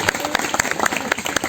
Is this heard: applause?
yes